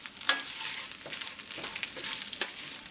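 Rice and spaghetti browning in a pan with sesame seeds, a steady close sizzle broken by scraping stirs and a few sharper clicks of the spoon on the pan.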